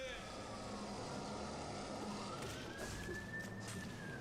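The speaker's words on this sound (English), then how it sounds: "Another loud police car going by." A police car siren passes outside, its rising-and-falling wail faint and distant behind steady background noise, with no talk over it.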